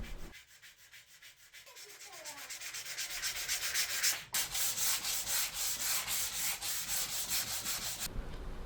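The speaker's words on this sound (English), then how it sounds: "I have to hand sand the marks the router left behind" Hand sanding router marks off the rounded wooden edges of a workbench top, a steady rhythmic rasp of repeated strokes, close and continuous, with a brief pause midway before the scrubbing resumes.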